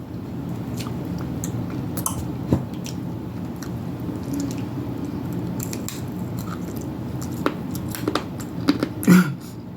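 Close, wet chewing of crispy fried fatback with crisp crunches and small crackles running steadily throughout, a few louder bites near the end, no talking.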